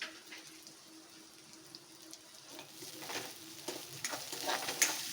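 Onions and green chillies fry in a pan. The sizzle starts quiet and swells gradually, with a few sharp crackles and scraping stirs toward the end.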